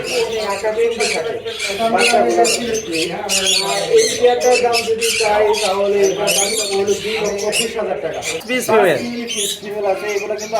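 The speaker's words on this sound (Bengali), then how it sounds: "পৃথিবীর সবচেয়ে ছোট জাতের অ্যামাজনের মধ্যে একটা অ্যামাজন" A small Amazon parrot squawks among birds at a breeding farm, with harsh calls mixed under continuous talking.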